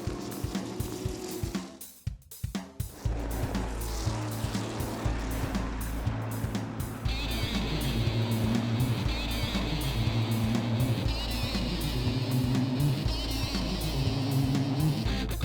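Modified race cars thunder around Jennerstown Speedway with a dense, steady engine roar that rises and swells as the pack passes, loud and continuous throughout.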